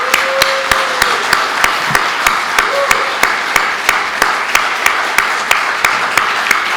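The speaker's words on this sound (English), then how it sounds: "Let's give them a big round of applause." Applause for candidates at the close of an at-large council debate, a crowd clapping under a loud, regular train of sharp single claps that repeats evenly throughout.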